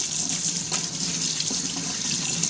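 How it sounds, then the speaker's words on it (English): Tap water runs steadily into a sink, rinsing fishy-smelling food under the stream, a close continuous splashing gush with no voices. "So we're just gonna rinse it for a good minute or 2."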